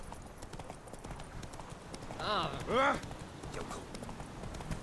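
Roach, a horse in The Witcher 3, gives two short whinnies at moderate distance, heard over a steady clip-clop of hooves and ambient game sound, with a voice speaking briefly.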